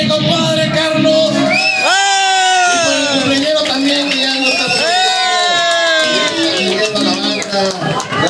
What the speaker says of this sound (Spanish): Otro fuerte aplauso para mi compadre Carlos.